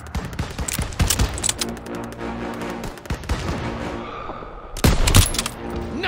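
Rapid, dense gunfire from a Call of Duty WW2 battle, with sustained bursts and a loud volley near the end, over a busy wartime game soundscape.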